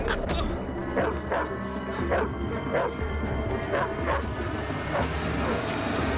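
Dog barking repeatedly in a TV drama scene, a steady series of sharp yips and barks roughly every half second, loud and close amid background noise.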